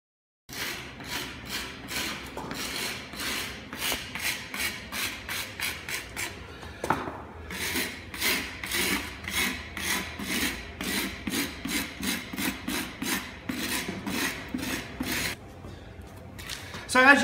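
A hand tool rasps back and forth along the edges of a stamped concrete overlay, chipping and roughening them in quick, steady strokes that continue nearly nonstop and sound close up.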